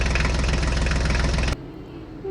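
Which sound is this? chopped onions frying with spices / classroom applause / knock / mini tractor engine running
mini tractor engine running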